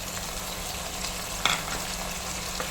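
Tomatoes, green chillies and shallots frying and being stirred in a pan, giving a steady close sizzle with a brief spatula scrape midway and a faint low hum underneath.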